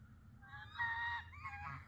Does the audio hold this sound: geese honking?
yes